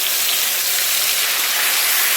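Tomato paste hits hot oil in a pan along with whole cumin, dried chillies and asafoetida for a vegetarian dish, giving a loud, continuous hissing sizzle that holds steady throughout with no talking.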